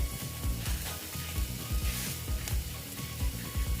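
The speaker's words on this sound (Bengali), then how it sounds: "দেখো একটু জল অ্যাড করে দিলাম এটাকে আমি মিক্স করে নিচ্ছি" Spices with turmeric sizzle in a pan as water is added, a steady frying hiss broken by repeated rhythmic scraping and stirring knocks close by.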